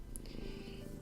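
A cat purrs softly and steadily nearby, a faint continuous low rumble during a quiet moment of soft pastel stencil artwork.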